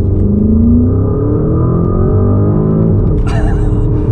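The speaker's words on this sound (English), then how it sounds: "if I put my foot down from 25 miles an hour, you'll see how quickly we get to 60" A 2025 730 bhp Porsche Cayenne Turbo pulls hard from 25 mph, its engine a loud, close, rising roar that builds steadily with a brief shift near the end, with no talking.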